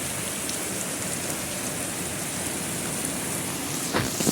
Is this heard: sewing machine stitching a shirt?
no